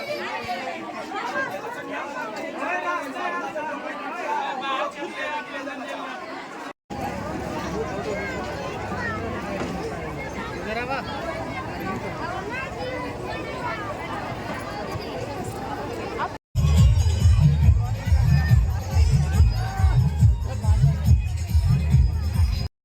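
A crowd gathers outside a house being decorated, with dense overlapping chatter and babble throughout, close and steady, ending in louder, rumbling outdoor commotion.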